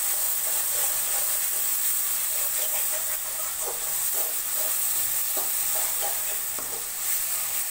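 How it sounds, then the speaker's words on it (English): Green chili paste stirred and frying in a pan for dry cabbage Manchurian, a steady close sizzle and hiss with soft scraping strokes of the spoon running throughout, no voices. "Fry until the raw smell goes off."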